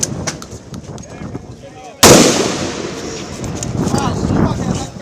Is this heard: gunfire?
yes